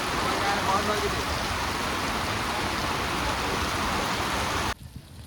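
Steady, loud rain pours down as a dense continuous hiss, cutting off abruptly near the end.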